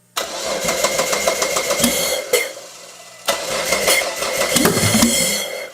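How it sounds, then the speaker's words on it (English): A twin-turbo V6 car engine running on a Haltech engine management system cranks and fires up, running loud and rough, cuts briefly, then restarts and revs steadily nearby. "So we'll start the car"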